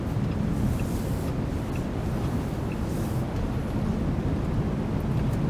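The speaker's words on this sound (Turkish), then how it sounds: "Biraz motor sesi de var içeride." A steady low engine drone and road rumble fill the cabin of a moving XPENG G3 car, constant and unchanging.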